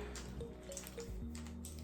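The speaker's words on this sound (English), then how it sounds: "just squeezing out the excess water" Excess water is squeezed by hand out of damp braid ends, soft squishy squelches and scattered drips close up, quiet and uneven.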